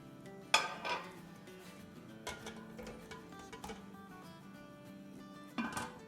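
A metal cake pan for brownies is set down inside a preheated cooking pot, giving a sharp clank followed by lighter metallic knocks and clinks, with another clatter near the end.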